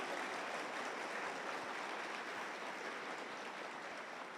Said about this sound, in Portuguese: E os que creem aplaudam ao Senhor por isso.